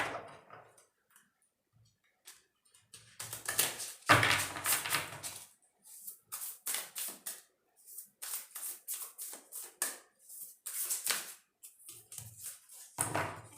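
Tarot cards shuffled by hand during a reading, a run of crisp riffling bursts with short pauses between them, close and fairly loud, with no speech.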